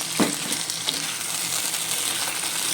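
Beans sautéing in a pan with sauce and spring onion, giving a continuous close hiss of frying with a few brief stirring clicks, no talking.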